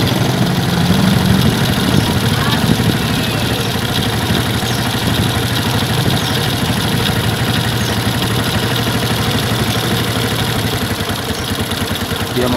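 Suzuki Smash motorcycle engine idling up close, a steady mid-pitched putter with slight vibration that holds for the whole stretch and has no talk over it.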